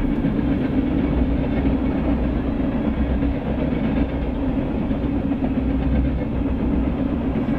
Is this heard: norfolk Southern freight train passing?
yes